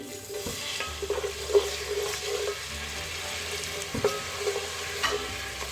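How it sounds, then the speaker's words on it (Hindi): Spices sizzle and fry in a pan with a splash of water for aloo kofte gravy, a steady close crackle and bubbling with occasional stirring scrapes and no talking. "मसालों को हम थोड़ा सा भूनेंगे, मसालों की अच्छी सी भुनाई करेंगे"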